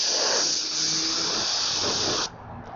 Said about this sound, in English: it definitely is painting much less than my other touch-up gun did. This is almost like an airbrush.